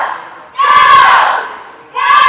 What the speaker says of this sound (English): As you hear her teammates cheering her on and helping her with pacing here